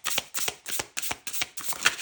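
A deck of tarot cards is riffled and shuffled in six quick, evenly spaced bursts of crisp flapping, close and fairly quiet, with no talking.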